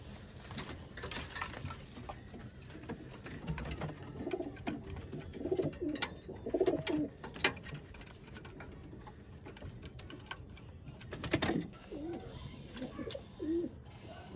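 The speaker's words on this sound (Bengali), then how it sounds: "রানিং উড়ানো কবুতর, রানিং উড়াইতে পারবেন কবুতরগুলো" Rajshahi giribaj pigeons, a high-flying breed, coo faintly in repeated low bursts, scattered among light tapping and clicking sounds.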